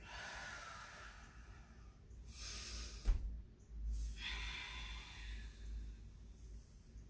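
Slow, deep breaths drawn in and let out during a guided breathing and stretching exercise, with broad airy rushes rising and falling over several seconds and a brief sharper exhale midway, close and fairly soft.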